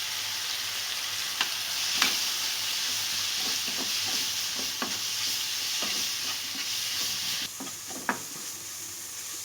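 Mushroom masala sautéing in a pan, a constant loud sizzle and hiss with repeated spoon or spatula scrapes and taps spaced irregularly across the stir.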